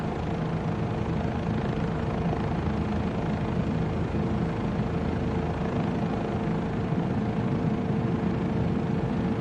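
Continuous whine and rumble of a Bell 407 helicopter engine in Microsoft Flight Simulator 2024, steady and close throughout with no voices.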